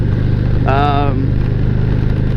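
A 2018 Harley-Davidson Street Glide engine idling through an aftermarket exhaust, louder than stock, with a steady low rumble, close by, while a person speaks briefly over it.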